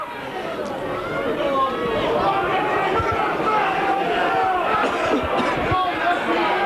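At a Barrow versus Bradford rugby league match, a large crowd roars and shouts in a loud, sustained wash of noise under a commentator's voice.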